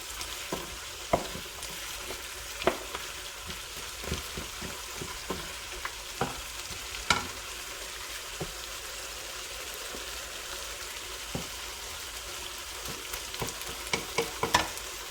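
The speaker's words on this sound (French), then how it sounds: "Je vais ajouter le poivron avec l'ail." Bell pepper and garlic sizzle steadily in a hot pan, with a constant frying hiss broken by repeated sharp scrapes and clicks of stirring spread across the whole stretch, no voices.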